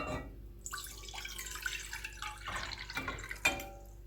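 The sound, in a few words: water being poured into a pan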